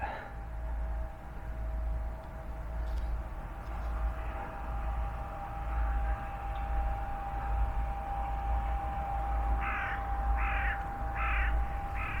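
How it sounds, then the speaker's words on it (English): Large crows caw repeatedly in a short rhythmic series near the end, standing out over a steady low hum and background noise. "We've got all these big crows."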